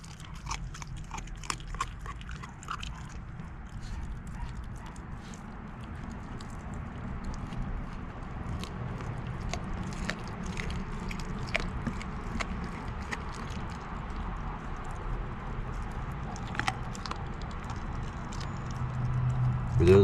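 A puppy named Winter eats its food, with quiet, irregular crunching bites and chewing repeated throughout, close and faint.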